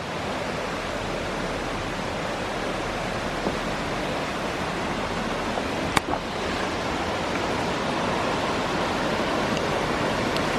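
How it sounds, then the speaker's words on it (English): Mountain creek on Mt. Hood tumbling over several small falls, a constant broadband rush of water heard close and steady throughout, with one sharp click midway. "Very pretty creek."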